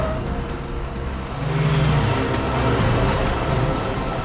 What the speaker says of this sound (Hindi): सर वो देखिए सुनहरी गाड़ी।